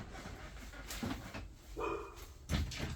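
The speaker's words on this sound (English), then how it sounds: "dogs are just trying to alert us when things are weird around us" Indoors, dogs give a few muffled barks and yips, faint and scattered, with one bark at mid-range standing out among quieter ones.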